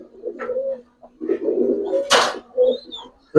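Giribaz silver pigeons coo in short, low, throaty bursts, with one sharp broadband rustle midway and a thin high whistle near the end, fairly close and without talk.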